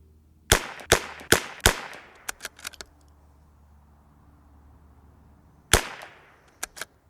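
A rimfire rifle fires cheap ammunition at a target: four sharp, evenly spaced shots, a few lighter metallic clinks, a pause, then another shot and two quick trailing clicks, all close and loud.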